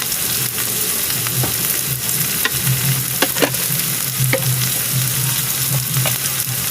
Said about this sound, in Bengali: এবার আমার আলু পেঁয়াজটা অনেকটা ভাজা হয়ে গেছে